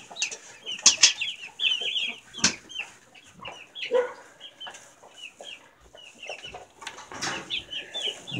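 Several chickens cluck and chatter nearby in a busy, uneven flurry of short calls and squawks, no people talking.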